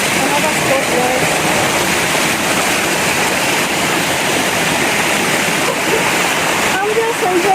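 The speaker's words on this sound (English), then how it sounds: "this is another mini waterfall" A mini waterfall along a hiking trail, its loud, constant rushing flow filling the air close by without pause, while a voice talks faintly underneath.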